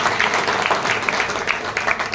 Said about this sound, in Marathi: एकदा जोरदार टाळ्या होत्या